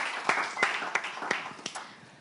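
An audience claps for a jury president at a ceremony, producing a short burst of fairly faint, even applause with a few distinct sharp claps standing out.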